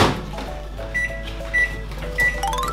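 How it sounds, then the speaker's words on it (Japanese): A microwave oven heating butter in a heat-proof bowl, with its steady low hum and a series of short electronic beeps near the end. "バターを、この耐熱ボウルに入れ、じゃあ10秒加熱しましょう"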